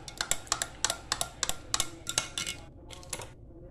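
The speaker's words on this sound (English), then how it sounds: "And you're basically just giving it a stir." A utensil stirring in a pot, a rapid series of bright metallic clinks and scrapes in an uneven rhythm, close and clear with no talk.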